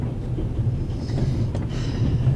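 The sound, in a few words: train riding along, from the video game The Raven Remastered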